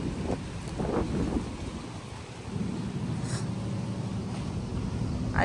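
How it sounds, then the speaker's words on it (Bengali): Wind blows outdoors in the early morning as a steady, low, rumbling roar that gusts slightly and buffets the microphone, fairly faint and with no voices. "বাতাস"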